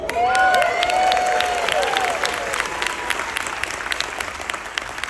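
A big audience at a cruise ship farewell show on Royal Caribbean's Radiance of the Seas claps loudly and steadily, with scattered cheers and a whistle rising over the crowd before the applause slowly thins.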